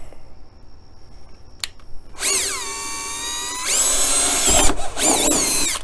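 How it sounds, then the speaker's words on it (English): Power drill boring a hole through the stake pocket of a 2017 Ford F-150 truck bed: a high whining drill run of about 1.5 s, then a longer steady drilling burst and a final short one, close and loud. "All right, so a moment of truth here with the drill."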